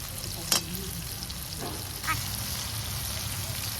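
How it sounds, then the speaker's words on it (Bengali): Tomatoes with salt frying in a pan for a mustard-sauce pabda fish dish: a steady close sizzle with a couple of sharp clatters and stirring scrapes, the frying hiss continuing unbroken. "টমেটো দিয়ে দিচ্ছি টমেটোটা একটু নরম করার জন্য লবণ দিয়ে দিচ্ছি"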